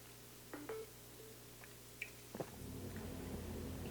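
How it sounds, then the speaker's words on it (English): A mobile phone on sound chirps out a few short electronic notification tones and beeps, faint and scattered over a steady low hum, with no talking. "My phone just keeps making noises."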